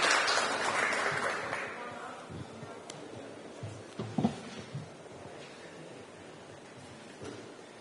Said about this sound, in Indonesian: Tepuk tangan untuk Bu Nini Rahayu